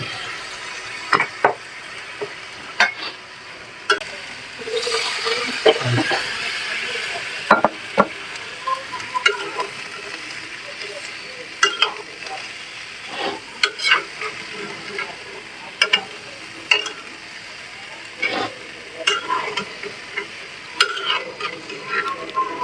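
Flat beans and potatoes are stir-fried in a pan with stinging catfish, a continuous close sizzle broken by frequent scraping and clattering strokes of a spatula mixing the vegetables.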